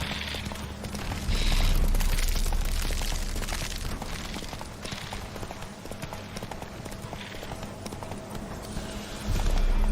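A horse gallops in The Witcher 3 video game, its hooves pounding in a fast, continuous clip-clop with low rumbling swells and a faint voice in the background.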